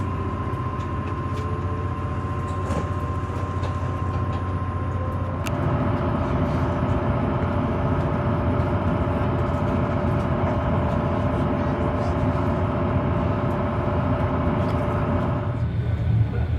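Train at Exeter St David's station, newly arrived from London on platform 6: a steady low engine drone and rumble with sustained tonal hum, a noticeable shift partway through as the sound swells, continuous and fairly close.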